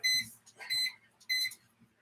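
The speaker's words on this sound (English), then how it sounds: "So here's the smoke alarm. Smoke detector." A smoke detector in a fire alarm system chirps in three short, shrill electronic beeps, quiet and fairly close with pauses between them.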